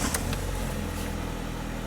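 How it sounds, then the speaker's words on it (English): A Ford Fiesta engine idles close by with a steady low hum and faint clicks near the start, under a continuous background wash. "Okay, so now I'm gonna start the engine."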